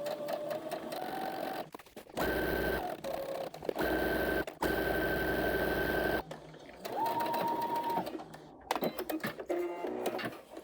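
A home sewing machine stitches a side seam in several bursts of steady whirring, stopping briefly where the presser foot is lifted to pivot, then running again, close and clear with no talk.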